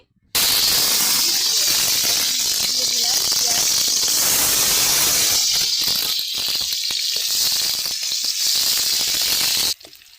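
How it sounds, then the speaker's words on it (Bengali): Onions frying in hot oil in a wok make a loud, steady, close-up hiss and sizzle that runs almost unbroken for about nine seconds before stopping abruptly. "পেঁয়াজটাকে ভালো করে ভেজে নিব"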